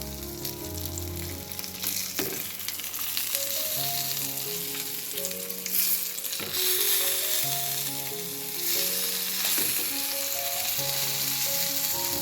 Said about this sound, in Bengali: আমি একটা একটা করে মাছ ভেজে নেবো